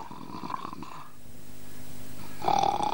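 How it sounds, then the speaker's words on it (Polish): A cartoon office snores with a few slow, rasping, grunting breaths that are loud and close, with no voices over them. "Moje biuro chyba chrapie."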